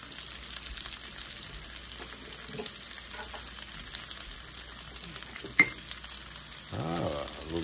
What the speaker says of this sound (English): She'll fry them until they get golden brown.